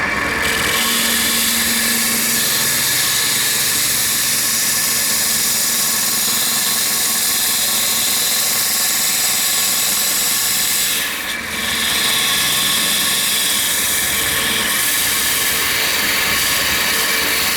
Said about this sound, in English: So I'm gonna use my parting tool.